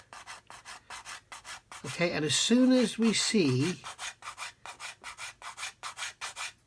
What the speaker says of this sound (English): then we can come in with a pretty coarse sanding stick and just